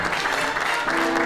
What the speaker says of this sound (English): And I think a round of applause is due.